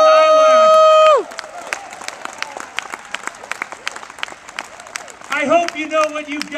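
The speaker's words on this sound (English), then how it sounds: "How about a big round of applause for Ruth, who came within an eyelash." A burst of crowd applause at a Tea Party rally in Tucson follows a loud tone, with scattered claps and cheers, then talk resumes near the end.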